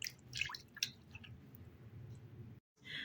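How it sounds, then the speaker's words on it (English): Water splashes and drips steadily as oily, sugar-scrubbed hands are rinsed in a basin, with soft wet squishing throughout before a brief silence and a final splash. "I'm gonna wash my hands in the water to remove all the oil"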